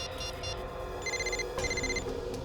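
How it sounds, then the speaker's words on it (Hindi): A mobile phone shut inside a drawer rings with repeated electronic ringtone bursts, muffled and moderately quiet, in two clear pulses with no talk over them. "फोन कहाँ बज रहा है?"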